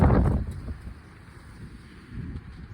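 A strong, wild gust of wind roars loudly across the microphone at the start, then eases into a steady lower rumble of blowing wind before swelling again near the end.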